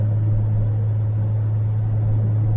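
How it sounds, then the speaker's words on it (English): A 1978 Chevy Nova cruises on the highway at about 60, filling the cabin with a steady, loud low engine hum and road rumble, unbroken and without talk. "we're cruising down the highway about 60"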